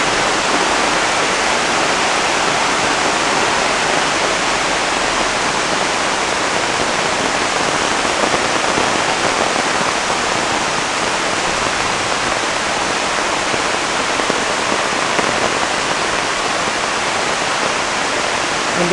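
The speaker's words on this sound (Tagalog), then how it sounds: "Hindi pa po gaano kalakas ang ulan yan." Rain falls over fast-rushing floodwater, a loud, dense and unbroken roar of water that holds steady throughout with no voices.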